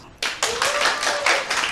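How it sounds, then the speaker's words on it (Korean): Seminar audience bursting into applause, short sharp rounds of clapping starting abruptly and carrying on close and fairly loud. "박수."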